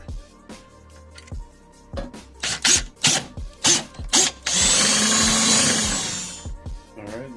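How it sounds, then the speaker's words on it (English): Power drill boring a hole for wiring through a panel of a 2025 Nissan Pathfinder SV, close up: short on-off bursts of drilling, then one sustained louder run of several seconds, with tapping in between. "We are going to have to drill a hole right here"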